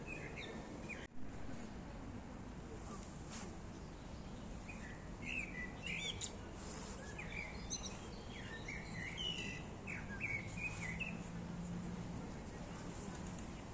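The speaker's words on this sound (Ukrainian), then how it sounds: "Тут так співають пташки" Birds chirp and sing in a rose garden in Ukraine, in scattered, fairly faint calls over steady traffic rumble, with someone talking quietly at times.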